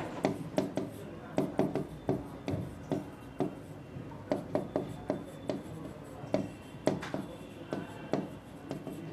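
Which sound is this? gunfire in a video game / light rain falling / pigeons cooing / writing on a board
writing on a board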